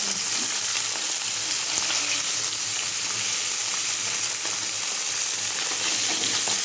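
Food fries in hot oil that is not quite hot enough, producing a loud, steady, continuous sizzle that holds unchanged throughout, with no voices.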